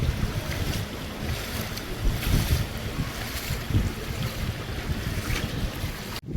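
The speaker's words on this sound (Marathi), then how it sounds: "तो पाण्याचा प्रवाह बघा किती जोरात आहे." Floodwater rushes along a residential road beside an apartment building in Palghar during heavy monsoon rain, a loud and unbroken broadband roar of moving water that holds steady from start to finish.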